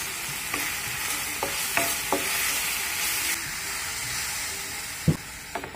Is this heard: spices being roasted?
yes